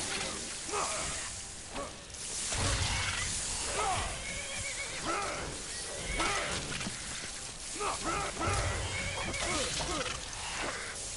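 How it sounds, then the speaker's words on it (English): Game horse whinnying and neighing amid busy in-game combat noise and clatter, with someone talking loudly over it throughout. "So annoying because the horse is getting in the fucking way"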